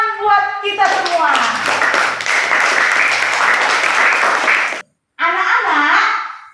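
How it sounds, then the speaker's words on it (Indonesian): A classroom of children breaks into sustained clapping, a dense even patter that runs for several seconds, stops briefly and then resumes, with a teacher's voice talking over the start. "Ya, tepuk tangan buat kita semua."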